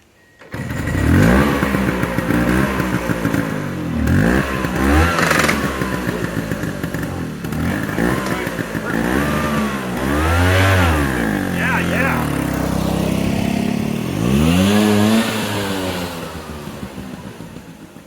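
A rebuilt 1979 Vespa P200E scooter engine is kickstarted and revved, climbing and falling repeatedly in loud, close bursts over about fifteen seconds.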